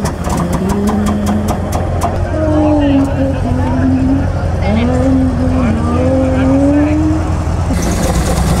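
A supercharged V16 Mercedes engine idles at the Pebble Beach Concours, a steady low rumble running close and constant while a person talks over it.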